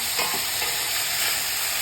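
Beef heart and kidney sauté in oil in a pan, giving a steady, close sizzle with a few soft stirring scrapes and no voices.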